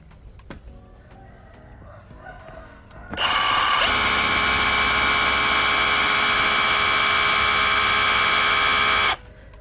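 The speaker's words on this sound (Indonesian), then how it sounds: "ini nih enak nih untuk ngebor besi ya" A Bosch GBH187Li cordless brushless rotary hammer drills into iron, starting with a sudden loud whine after a few faint clicks and holding a steady, high-pitched grinding drone for about six seconds before cutting off.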